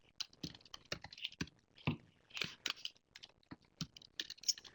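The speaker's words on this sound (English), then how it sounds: "And we see we got a few more people typing." People type on computer keyboards during an online recruitment webinar, producing close, irregular bursts of clicking keystrokes with short pauses between them.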